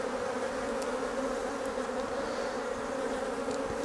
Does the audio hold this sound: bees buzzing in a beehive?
yes